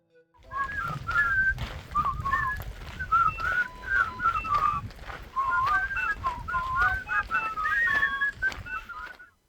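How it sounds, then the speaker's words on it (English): People whistling a vaguely familiar tune while hiking along the edge of a salt mine in Peru, a continuous close melodic whistle running for several seconds over light outdoor background noise. "we whistled a vaguely familiar tune along the way"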